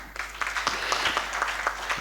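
Audience applause at a formal diplomatic ceremony, a short burst of scattered clapping from a hall crowd with a few distinct sharp claps, moderately loud.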